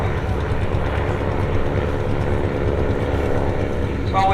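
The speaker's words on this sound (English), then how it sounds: "So we've got a bombing squadron forming up." Antique propeller-driven bomber airplanes forming up in squadron at a vintage aerodrome, with a loud, continuous, droning engine roar that holds steady at close range throughout.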